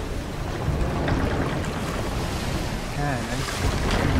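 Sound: sea water and waves around sinking ship, Sea of Thieves video game

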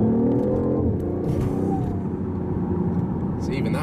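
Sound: BMW i8 hybrid sports car accelerating from the line

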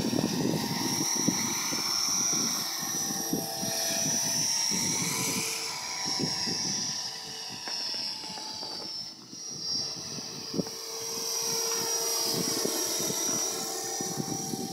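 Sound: Align Trex 450 RC helicopter with Hughes 500 fuselage launching

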